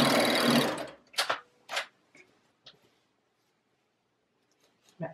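A serger sewing machine stitching fabric bowl cozies runs in a fast buzzing whir for about a second, then gives a few short mechanical clicks and thuds with quiet gaps between them.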